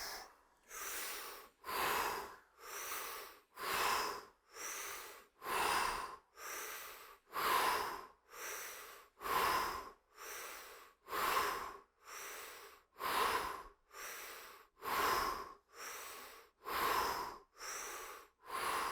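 Rhythmic, forceful yoga breathing during a Kundalini class, about twenty evenly spaced breaths with short pauses between them, close and loud with no talking.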